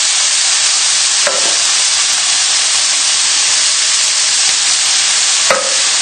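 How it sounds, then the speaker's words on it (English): Canned chopped tomatoes are stirred into a fish casserole over the heat, giving a steady loud hiss and sizzle with a couple of brief scraping knocks from the spoon and no talking. "And give it a good stir in."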